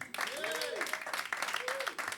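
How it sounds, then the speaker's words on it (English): A small comedy club crowd gives the comics a hand, a short burst of clapping with a voice speaking over it. "Give the comics a hand."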